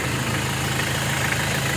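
A 2008 Mitsubishi L300 FB engine idles steadily just after starting, a close, even mechanical drone with a low rhythmic thrum and no voices.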